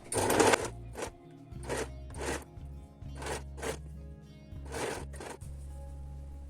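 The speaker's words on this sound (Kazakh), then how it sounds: "Мына замокты осылай ашып отырып тігеміз." A sewing machine stitches a trouser zipper in a run of short, fast bursts separated by brief pauses, with a steady low motor hum underneath, close and fairly loud, no talking.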